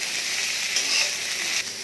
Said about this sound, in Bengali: করলাটা একটু ভালো করে ভেজে নেব